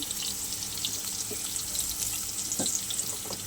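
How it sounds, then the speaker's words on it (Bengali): Potatoes frying in hot oil in a pan give off a steady, dense hiss of sizzling, with a few faint clinks and bubbling pops along the way. "এখানে আলুটা ভেজে নিচ্ছি।"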